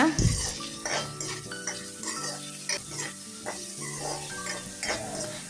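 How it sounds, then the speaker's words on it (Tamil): Salt and onions are stirred in a pan for egg idli gravy, a steady run of scraping spoon strokes and metal clinks over a soft sizzle, close and moderately loud with no talking. "சேர்த்துட்டு ஒருக்கா நல்லா மிக்ஸ் பண்ணி விடுங்க"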